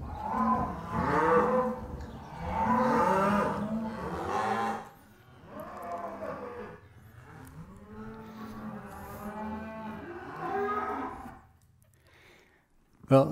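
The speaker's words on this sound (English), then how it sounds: "I had to separate the mom cows from their calves to inoculate the calves" Cattle on a ranch moo loudly and repeatedly, mother cows separated from their calves for inoculation: long, drawn-out bellows overlapping near and farther off, fading toward the end.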